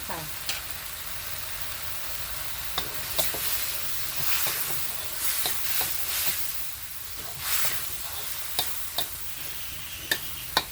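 Chicken stir-fried with chili paste and spring onions in a pan: continuous close sizzling with repeated sharp scraping and clanking of the spatula against the pan, alone without talk.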